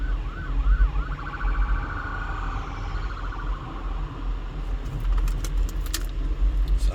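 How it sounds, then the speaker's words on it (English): An ambulance siren wails in the distance over steady traffic rumble on Tropicana Avenue, East Las Vegas, its pitch sweeping then fading, with light jangling near the end. "here comes the ambulance"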